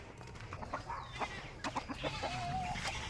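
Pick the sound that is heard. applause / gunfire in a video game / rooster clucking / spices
rooster clucking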